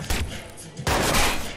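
Video game explosions and gunfire from Watch Dogs, set in Iraq: two loud booming bursts with crackling shots, the second blast sustained and heavy.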